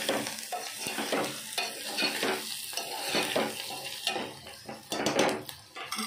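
A spoon stirs chili powder and salt into a sizzling pot, scraping and clinking against the metal in close, repeated strokes.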